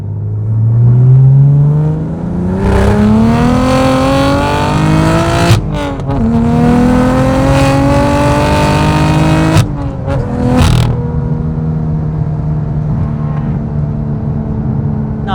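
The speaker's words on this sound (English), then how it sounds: "so we'll do a second gear pull" A BMW M4 with the S55 engine makes a second-gear full-throttle pull with exhaust valves closed, its loud engine note climbing steadily in pitch with brief shift breaks, heard close from inside the car.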